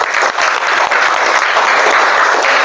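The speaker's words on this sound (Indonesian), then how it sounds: "Tepuk tangan buat semuanya." A classroom of students applauds at the close of a lesson: a short, loud, dense burst of many hands clapping together without pause.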